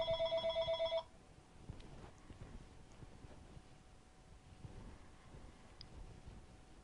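A house landline telephone rings at the start, a rapid electronic trill of about a second, then the room falls quiet apart from faint low background noise.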